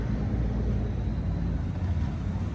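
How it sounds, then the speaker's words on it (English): A truck drives past outdoors, a steady, loud low rumble with broadband road noise filling the whole stretch and no voices over it. "we got a truck going past"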